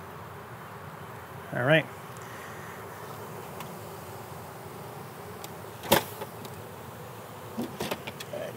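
A low, steady buzz of honeybees comes from an observation hive being installed indoors, with a few brief louder bumps and a short spoken remark.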